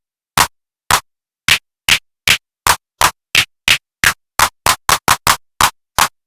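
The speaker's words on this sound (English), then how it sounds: "Clap." An 808-inspired electronic clap from a Vital synth preset, a series of about eighteen sharp, bright, noisy claps, irregularly spaced and speeding up toward the end, loud and dry with silence between hits.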